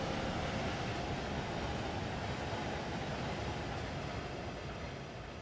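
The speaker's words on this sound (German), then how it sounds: "Ich höre was. Da kommt der angesprochene Zug." A regional express train approaching in the game Train Sim World 3, heard as a steady broadband rumble and rail roar that holds evenly throughout and tapers slightly at the end, with no talk over it.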